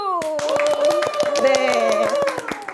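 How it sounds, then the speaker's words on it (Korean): Rhythmic hand claps greet four village support activists in a Dobong-gu community broadcast studio, the short sharp claps running steadily under a sustained melodic voice or tune. "박수!"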